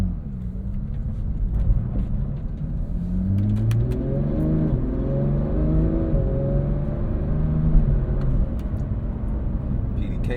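Porsche 911 GT3 flat-six engine revving hard while accelerating, a loud in-cabin wail climbing through rising pitch sweeps with quick gear changes, continuous and close throughout.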